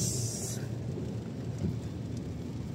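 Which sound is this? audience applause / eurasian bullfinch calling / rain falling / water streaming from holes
rain falling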